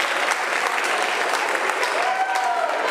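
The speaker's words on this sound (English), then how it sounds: "What in the actual F are you clapping about?" Legislators clap in their chamber as the session adjourns sine die, giving a continuous, even wash of applause from a room full of people that lasts the whole few seconds.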